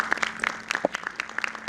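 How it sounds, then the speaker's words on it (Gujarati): Audience clapping to welcome a guest speaker at a discourse on Albert Einstein's autobiography, with scattered, uneven claps over the short stretch and no talk. "એમને આપણે તાળીઓના ગડગડાટથી વધાવી લઈએ."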